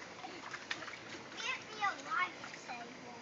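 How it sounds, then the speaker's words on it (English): A child splashing while swimming on their belly in water, with soft irregular splatters under a voice and an adult talking nearby. "lay on your belly and swim around like you do in the tub"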